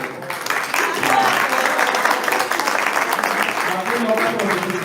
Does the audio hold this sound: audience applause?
yes